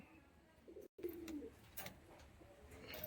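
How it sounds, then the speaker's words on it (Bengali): A Giribaz pigeon offered for sale gives a low, faint coo, a soft murmuring call against quiet background noise after a brief dropout. "এই যে পায়রা গরম ডাকটা দেখুন, এতক্ষণ পায়রা ডাকছিল না একটু ভয়ের কারণে।"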